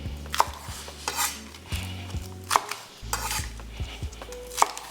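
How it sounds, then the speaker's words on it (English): A knife chops vegetables on a cutting board for a Mongolian ground beef dish, giving irregular close taps and thunks spaced about a second apart, fairly quiet, with a soft kitchen background. "I'll cut these so they're about 2 inches or so apart just for a difference in texture"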